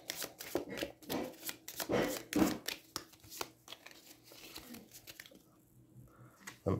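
A deck of cards is shuffled during a solo tabletop deck-building game, giving quick papery riffling and shuffling bursts with taps and pauses, close and fairly clear, fading to quiet near the end.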